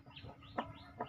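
A chicken awaiting slaughter for a catering order gives a few short, soft clucks close by, with two sharper notes standing out over a low background rumble.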